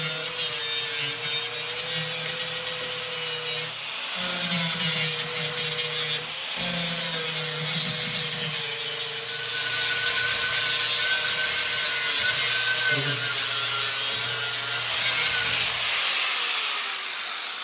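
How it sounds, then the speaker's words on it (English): Flap disc on an angle grinder cleaning up welds along the ribs of a VW Bus engine access hatch, a loud continuous grinding whine with short breaks and pitch dips as the disc bites the steel. "cleaned all the welds with a flat disc"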